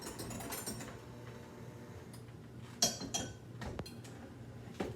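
An electric mixer whirs steadily on low speed, beating egg yolk for a cheesy spinach spaghetti dish, with a mechanical hum and scattered light clicks and clatters from the bowl.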